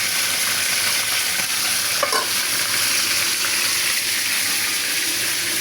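Pieces of meat sautéing in a pan for a festive Eid meal, with a loud, dense, continuous sizzle and stirring that holds steady throughout, broken once by a brief metallic clink.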